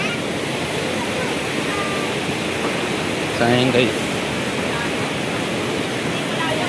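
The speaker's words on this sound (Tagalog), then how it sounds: "Lakas ng agos guys." Strong river current rushes near Wawa Dam as a dense, steady roar of water close by, with a man's short remark rising briefly over it midway.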